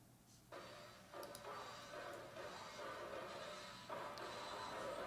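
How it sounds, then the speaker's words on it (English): Arcade drums from a taped sample run through a bit crusher in Logic Pro X, a gritty, noisy, crunchy beat with a few harsh hits, fairly faint and without talk. "In here I've got some arcade drums."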